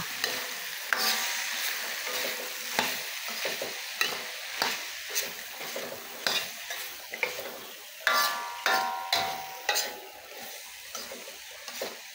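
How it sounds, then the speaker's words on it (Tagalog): Cubed, peeled chayote sautéing in a pan, a steady sizzle broken by repeated sharp scrapes and knocks of a spoon stirring every second or so, close and fairly loud. "Gisayin lang natin yan ng 2 minuto."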